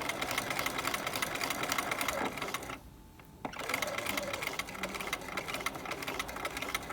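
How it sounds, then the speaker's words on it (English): Sewing machine stitching along a trouser waistband seam, a close, steady rapid mechanical whir that stops briefly near the middle and then resumes. "We're going to sew along this seam here."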